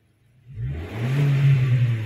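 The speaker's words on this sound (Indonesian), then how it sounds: "Ini pada saat digas ini naiknya luar biasa." A car engine fitted with double blackcore tuning revs up sharply from idle and holds a loud, close rising roar for the rest of the short moment, with no talking.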